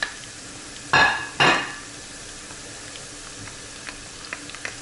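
A spoon scrapes and stirs meat and onions frying in a home skillet, two loud bursts of stirring close by, then a faint steady sizzle with a few small clicks.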